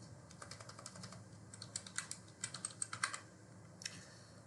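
A password is typed on a computer keyboard in quick, irregular bursts of soft key clicks, close but quiet, then a pause and a final pair of taps against a faint room hiss.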